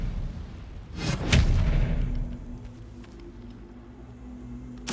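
Expelliarmus spell cast in the Hogwarts Legacy video game, a single booming blast with a whooshing burst that swells and fades over about a second against a low game ambience.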